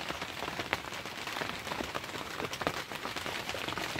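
Light rain falls in a village, pattering on a tarpaulin-covered tractor, a steady dense hiss of drops with scattered sharper taps, close and continuous without voices.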